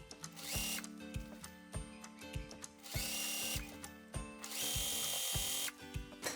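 A sewing machine stitches the gathered sleeve cap of a smock dress at a one-centimetre seam allowance, running in several loud mechanical bursts with brief pauses between them and no talking.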